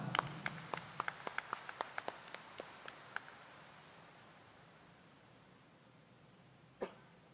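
Faint, sparse clapping in a church at a feast-day homily: a quick run of distinct claps that thins and slows over about three seconds, then quiet, then one last isolated clap.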